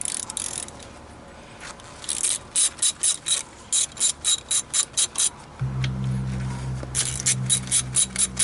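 A hand ratchet clicks in quick bursts of rapid pawl ticks while 13 mm brake caliper bolts are loosened on a Chevy Impala, close and crisp, with a low hum joining partway through.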